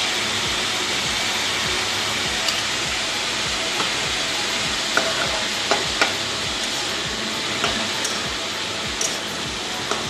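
Ginger paste is stirred in a frying pan with pumpkin for a Bengali shukto, a dense even hiss of frying broken by occasional sharp scrapes and taps, with no one talking.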